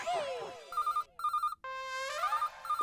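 A mobile phone ringtone plays loudly, a bright electronic melody of repeated chirping notes and sweeping tones with brief gaps, in a scene from an Indian TV comedy.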